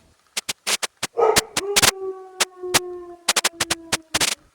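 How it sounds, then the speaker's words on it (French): Rapid sharp clicks and taps surround a dog's long, thin whimper that wavers and fades in the middle, the whining moderately close and heard alone without speech. "Vous entendez le chien?"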